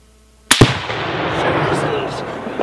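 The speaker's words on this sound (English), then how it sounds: "hopefully we won't hear it over the explosion of the Tannerite" A rifle shot sets off Tannerite packed with Twinkies. A sharp crack is followed at once by a heavy boom that rolls on into a long, loud, rumbling decay.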